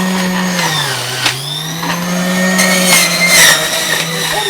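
An electric juicer juicing celery whirs steadily with a low motor hum and grinding, loud and close, pitch dipping slightly as it works.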